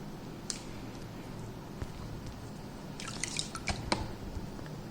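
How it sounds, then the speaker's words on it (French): Resin dabbed onto a fossil block to consolidate it, making soft wet taps and drips, scattered at first and then a quick close cluster of small squishy dabs over a low steady background. "par tapotement, imprégner votre bloc de résine"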